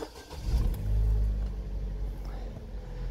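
Vauxhall Zafira B car engine cranking and catching, then settling into a low, rumbling idle with a brief rise in revs; close and fairly quiet, with a deep steady drone throughout.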